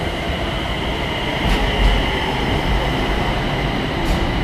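A Bangkok BTS Skytrain train gives a steady, close rumble with a faint mechanical hum, even and continuous with no voices.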